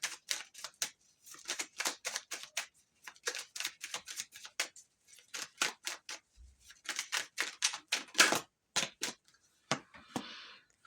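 Tarot cards being shuffled and pulled, a rapid run of crisp riffling snaps and slaps, dense and close, with short pauses between bursts and a louder flurry near the end.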